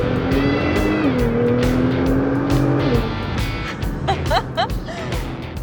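A Nissan GT-R engine revs up through gears in manual mode, a rising drone that climbs in pitch with a shift around the midpoint, heard from inside a fairly soundproofed cabin, later joined by quick higher whines.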